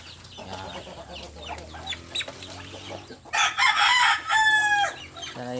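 Backyard chickens cluck and mutter softly in and around a coop, then a rooster bursts into a loud, close crow followed by more excited clucking.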